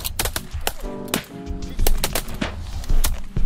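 Shotgun blasts ring out at a youth dove and teal hunt, several sharp, close reports in quick succession with birds calling in between.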